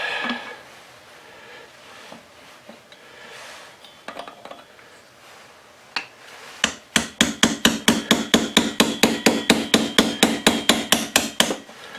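A hammer knocks on the metal parts of a worn-out Stihl TS400 cut-off saw during a teardown, starting with a few scattered taps and then a fast, steady run of sharp, ringing metallic blows close by.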